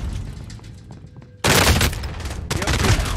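Bursts of automatic gunfire erupt in a shooter video game, loud, close and rapid, starting abruptly after a quieter stretch and continuing with sustained fire and sharp cracks.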